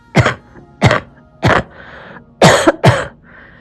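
Five loud, close coughs in uneven bursts, each followed by brief raspy breathing, from a person with a chest cough who has been drinking hot tea and steaming, with no talk between them.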